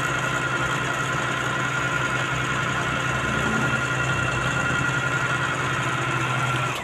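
A Singer Mon Ami 11 deluxe 390 sewing machine winds a bobbin with a steady, loud motor whir that runs unbroken throughout, with no talk over it.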